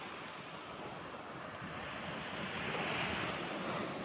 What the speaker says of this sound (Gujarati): જો તમે જોઈ શકો કે આના મોજા કેટલા ઉછળીને આ બાજુ આવે છે કિનારા તરફ.